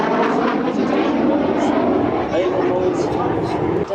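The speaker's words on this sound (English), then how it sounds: "This, of course, the jet training aircraft used by the Royal Air Force." An RAF jet training aircraft flies past at the Biggin Hill airshow, its engine a loud, continuous roar that fills the air while a commentator talks over it.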